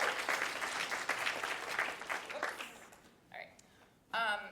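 An audience applauds during a summit presentation, with a few seconds of steady clapping that fades before a voice speaks and a brief final swell.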